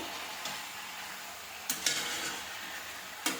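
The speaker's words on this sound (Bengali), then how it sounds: "এটাকে খুব সুন্দরভাবে কষে নিতে হবে" Mutton kosha browns in a pan as it is stirred, a soft continuous sizzle broken by a few sharp clinks of a spoon against the metal pan.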